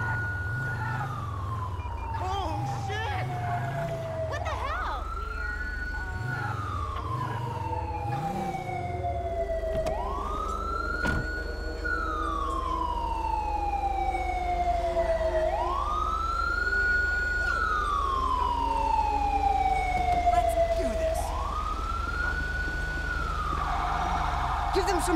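In the police game GTA V with the LSPDFR mod, an emergency vehicle siren wails in repeated slow rising and falling sweeps, loud and steady for the whole stretch, with a low engine rumble beneath and radio-style chatter early on.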